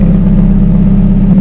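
Ferrari F430 naturally aspirated engine running loud and close, a steady low throbbing drone with no clear rev change over a brief moment.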